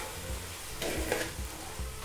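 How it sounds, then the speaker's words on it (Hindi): Diced potatoes and green peas roast in a pan for aloo matar pulao, giving a steady low sizzle with a brief swell of stirring scrapes midway; no one speaks. "ये डाल देंगे, क्योंकि अब अच्छे से भुनाई करेंगे हम"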